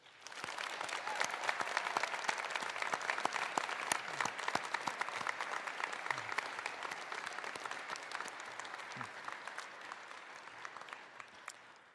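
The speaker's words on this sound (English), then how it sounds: "Please join me in a round of applause for our wonderful faculty" An audience applauds at the Caprock Academy 2025 graduation ceremony: sustained, dense clapping from a large crowd that swells quickly, holds steady, then gradually thins and tapers off.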